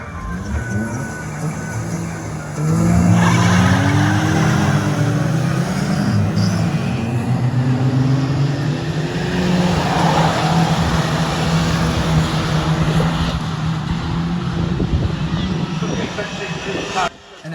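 Stock cars race at Cowdenbeath Racewall, their engines roaring loud and continuous from the start, with engine pitches rising and falling as the pack runs.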